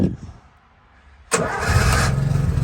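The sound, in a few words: Austin Champ military vehicle engine starting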